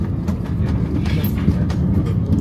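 A train runs on the rails at Porthmadog, heard from on board as a steady low rumble with faint, irregular clicks and clatter over the track, close and continuous.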